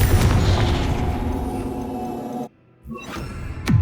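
Fiery Confringo spell blast from Hogwarts Legacy, a loud, dense booming rumble that cuts off into near silence, followed by a faint whoosh and a sharp final burst.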